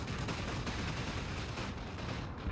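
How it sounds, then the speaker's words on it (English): Cannon and artillery fire on a Napoleon Total War battlefield, a continuous dense barrage of booms and crackling gunfire blending into a steady roar at moderate level. "Cannons. Artillery."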